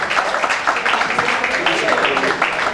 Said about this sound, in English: A round of applause for our please. A round of applause.